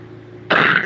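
A single wet, phlegmy cough with mucus bursts out loud and close after a quiet moment, with no talking.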